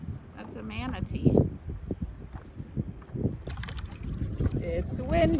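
Gusty wind buffets the microphone outdoors beside the Intracoastal Waterway in Jacksonville, Florida, a steady rumble with lapping water as a person talks over it.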